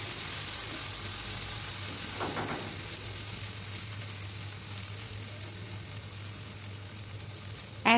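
Onion frying in a pan with ginger garlic paste, turmeric, chili and coriander powder for a chicken bhuna gives a steady, even sizzle close by, with a brief clatter at the very end and no talking.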